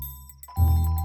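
A doorbell at a house door in a Hindi-dubbed South Indian comedy film gives a faint chime, then a louder sustained ringing tone that holds steadily to the end.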